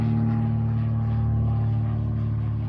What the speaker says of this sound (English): There's some kind of airplane.